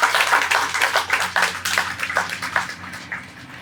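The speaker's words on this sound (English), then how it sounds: "So I want you to give him a round of applause for his performance." A small audience at a printing corporation's grand opening ceremony claps for a performer, with scattered, uneven handclaps that start brisk and thin out toward the end, and no voices over it.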